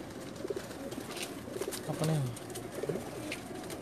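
Pigeons coo at a rooftop pigeon loft in Jeddah, Saudi Arabia: several soft, low cooing phrases repeat across the clip at moderate distance, over a steady hiss of outdoor background noise.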